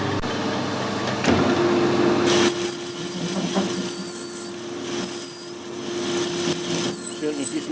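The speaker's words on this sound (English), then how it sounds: "I've got a nice little high-speed steel tool here with a nice rounded tip on it. That should put a nice little groove in there." A lathe with a round-tipped high-speed steel tool cuts a groove in a turbocharger housing, a continuous machine hum with a thin high squeal from the cut, steady and close.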